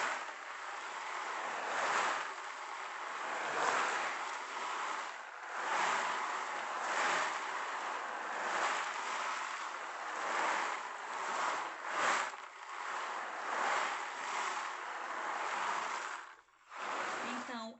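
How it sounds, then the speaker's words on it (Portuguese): A homemade ocean drum made from a pizza box filled with grains and decorated with shells, tilted to make a continuous hissing wash of rolling grains that swells and recedes like surf, steady and close. "a caixa de pizza ficou com um belo som do mar"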